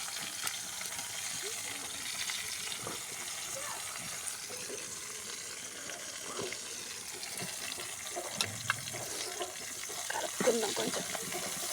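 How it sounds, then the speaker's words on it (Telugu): Onions sizzle in a pan for a prawn curry, a steady hiss with faint crackles over a continuous watery background, with occasional clinks of utensils near the end. "ఇప్పుడైతే మనం ఉల్లాకి వేసుకున్నాం."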